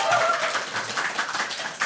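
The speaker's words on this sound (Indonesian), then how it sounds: "Makanya tepuk tangan gitu" Light clapping from a small audience at a talk show recording, quick scattered hand claps close by with a bit of chuckling mixed in, brief and moderately soft.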